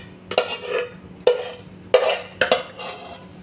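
A spoon stirring sweet guava syrup into homemade yogurt in a container, four distinct clinking scrapes against the side spaced about a second apart, close and clear with no talk.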